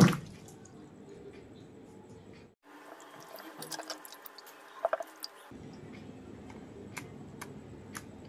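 Raw mangoes being washed by hand in water, with close, soft splashing, squishing and dripping that comes in uneven bursts and turns busier in the middle, with no one speaking.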